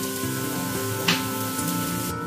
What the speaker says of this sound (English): Boil the sauce for a while